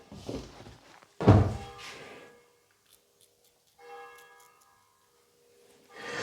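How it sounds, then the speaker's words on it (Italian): Bells ring with a heavy initial strike, then resonant tones decay and sound again more softly, leaving long ringing overtones in quiet gaps. "qua le campane proprio non danno assolutamente tregua."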